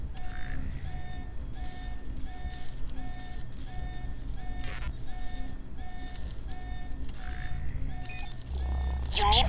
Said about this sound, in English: You need to shut off the alarm.